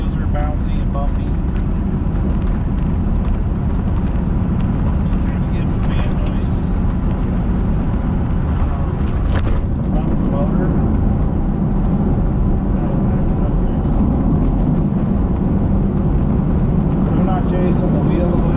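A 1973 Corvette convertible with a 454 drives over a bouncy, bumpy road, giving a steady, loud roar of engine, road and wind noise throughout, with a person talking over it.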